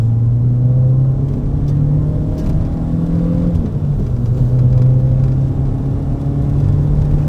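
A Peugeot 205 GTI 1.6 115 hp engine drones loudly and steadily from inside the cabin, its pitch climbing as it accelerates out of a roundabout, dipping briefly for a gear change, then pulling on again.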